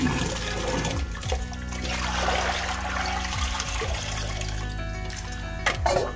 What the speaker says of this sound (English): This is the method of washing the bhutai.